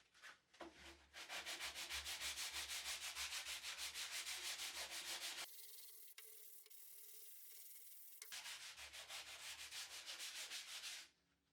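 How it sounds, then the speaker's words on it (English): 120 grit sandpaper scrubs against a wooden surface in rapid, even back-and-forth strokes, rhythmic and close, pausing briefly midway before the strokes resume. "Now on to the second phase of sanding using 120 grit sandpaper."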